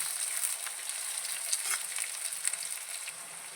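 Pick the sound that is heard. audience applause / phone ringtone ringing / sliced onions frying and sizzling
sliced onions frying and sizzling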